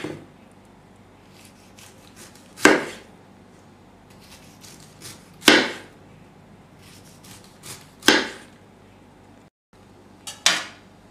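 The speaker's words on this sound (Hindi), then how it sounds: "अब हम पाइनएप्पल के स्लाइसेस काट लेते हैं।" A knife cuts pineapple slices on a chopping board with four separate, evenly spaced, crisp cuts, close and clear with quiet pauses between them.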